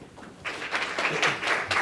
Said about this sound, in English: please join me in giving a round of applause for our distinguished speaker today